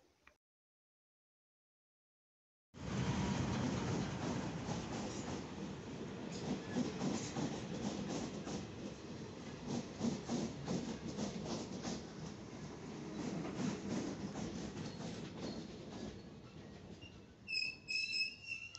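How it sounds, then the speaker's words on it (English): A train pulls into a station in Nairobi, its loud rumble of rolling wagons and rhythmic wheel clatter starting abruptly after a short silence and continuing steadily, with a few sharper squeals near the end. "So guys, here the train has just arrived."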